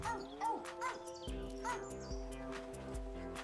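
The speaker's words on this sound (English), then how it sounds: "You gotta let go of it by barking." Cartoonish dog barks from the video game Phogs, a run of bouncy, tonal yips repeating in quick rhythm over a layered game-music backdrop.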